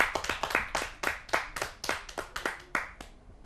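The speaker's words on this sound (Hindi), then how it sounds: "आइए जोरदार तालियों से उनका स्वागत करते हैं।" An audience claps at a Hindi kavi sammelan poetry gathering as a poet is welcomed to the stage: a sparse group of distinct, uneven hand claps rings out close by, briefly thinning toward the end, with no one talking.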